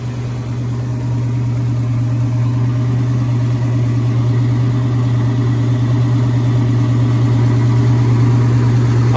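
A 1971 Ford Boss 351 with a 4-speed and factory exhaust manifolds idles quietly and steadily close by, a smooth even low hum with no revving and no voices.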